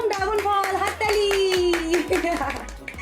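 Several people clap their hands in a quick, uneven run of sharp claps, close by, while someone talks over them at home as dragon fruit is being shared.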